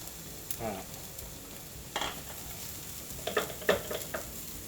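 Sliced chili and garlic stir-fried in leftover bacon fat in a pan: a steady low sizzle with a few scraping stirs and light utensil clinks, close and without talk.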